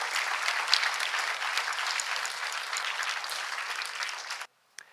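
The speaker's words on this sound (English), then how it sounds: "Give them a round of applause." Moderate applause from an audience at a startup conference rings out steadily for volunteers, with a few sharper individual claps, then cuts off abruptly near the end.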